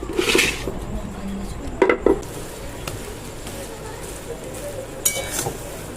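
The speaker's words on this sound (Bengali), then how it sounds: "আমি এখন কড়ার মধ্যে একটু নেড়ে নিচ্ছি একটু বেশি করে আলু দিলাম" Potatoes stirred in a kadai, with a few scraping clinks of a utensil against the metal over a low background and a voice talking around them.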